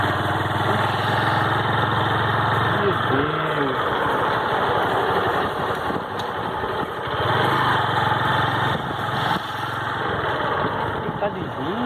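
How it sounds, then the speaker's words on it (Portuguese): A motorcycle engine labours slowly up a steep rural hill in the sertão, droning loud and close with rising and falling revs, while a voice speaks briefly over it. "essa moto aí tá devagar demais"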